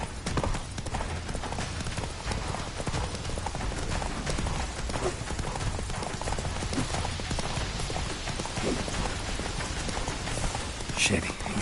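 Hooves of Geralt's horse Roach clip-clop steadily at a fast gallop in The Witcher 3, a continuous rhythmic pounding under light game ambience, with voices talking over it.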